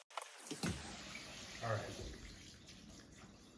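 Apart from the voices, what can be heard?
mushrooms being washed in a sink with running water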